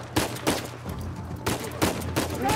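Gunfire in the Uncharted 4 video game: several sharp, loud shots come in quick bursts with short pauses between them, close and clear over a low steady game background.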